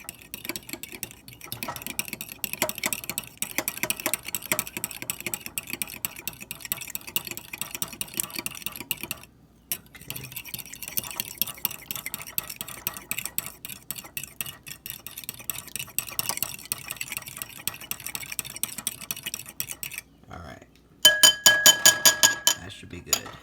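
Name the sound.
whisking eggs in a bowl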